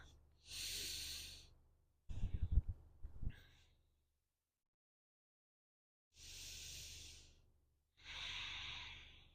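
Slow, audible breaths during a standing forward-fold stretch: long airy exhales near the microphone separated by silence, with a short rustly, snorting puff in between.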